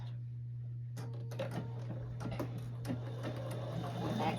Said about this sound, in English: I'm going to stitch at a 1/2 inch seam allowance